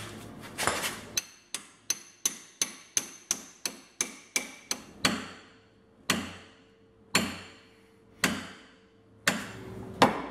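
A hammer striking a Jeep WJ steering knuckle to knock the ball joints loose: a quick run of about a dozen sharp metallic blows, then slower, heavier single strikes with ringing decay, close and loud.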